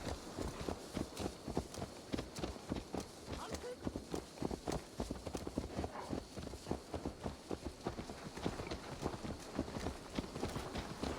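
Horse hooves clip-clopping at a steady walking rhythm in Assassin's Creed Valhalla, close and even throughout, mixed with the game's ambience and voices talking over it.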